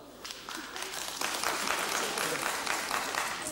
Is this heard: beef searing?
no